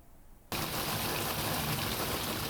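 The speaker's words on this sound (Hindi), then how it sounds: "मशरक़ी बलूचिस्तान में मूसलाधार बारिश का सिलसिला एक बार फिर शुरू हो गया है।" Heavy torrential monsoon rain in eastern Balochistan, Pakistan, starts abruptly as a loud, dense, continuous hiss and roar that holds steady without a break.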